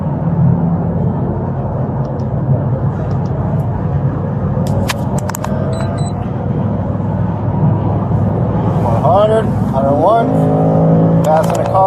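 Car noise during a high-speed police pursuit, a loud steady engine and road roar that rises as a vehicle is passed near the end, with a siren-like wail and radio chatter in the mix.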